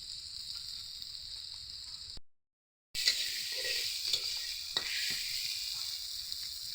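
Potatoes and spices frying in a pan for a snail curry, a steady sizzle with stirring scrapes, briefly cut to silence before the sizzling resumes louder, no voices.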